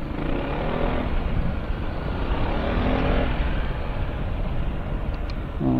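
Yamaha X-Max scooter engine on a test ride, a steady droning hum under heavy rushing wind noise, constant and unbroken throughout.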